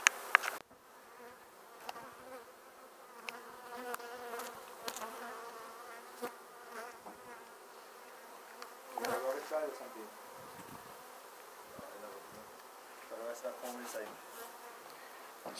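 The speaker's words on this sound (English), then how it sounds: "Smoking out the bees." Steady insect buzzing of many bees during a bee removal with smoke fills the clip, a continuous drone with a few louder swells passing close by.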